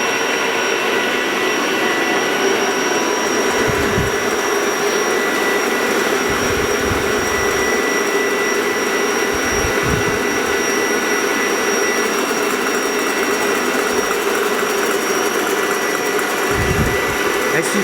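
An electric mixer whisking egg yolk with sugar in a restaurant kitchen: a loud, steady high whine that runs without pause, with low bumps and clatter beneath it and muffled voices now and then.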